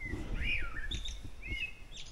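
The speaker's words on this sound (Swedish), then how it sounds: "Hör ni fåglarna?" Birds sing outdoors: a few faint, high, sweeping chirps and whistled calls at a moderate distance over a low background rumble, with no talk.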